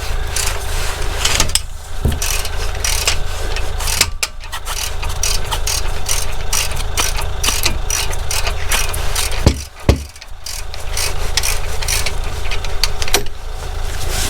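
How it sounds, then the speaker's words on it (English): Ratchet clicking steadily while working on the brakes of a VW Transporter, close and continuous over a low mechanical background, with a few sharp knocks and clanks scattered through. "Extending the ratchet really helps."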